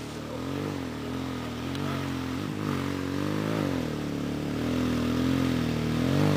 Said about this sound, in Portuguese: Acelera, Roia!